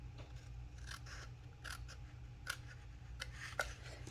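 Scissors snip through a paper card in a few quick, close cuts, each a short crisp crunch over a quiet low hum.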